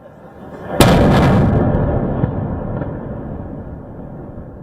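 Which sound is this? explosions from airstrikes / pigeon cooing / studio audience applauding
explosions from airstrikes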